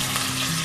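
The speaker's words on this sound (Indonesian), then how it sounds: "Nah, Kita tumis bumbunya." Spice paste sautés in hot oil for a South Sumatran dish, a brief, dense, even sizzle heard up close with no talk.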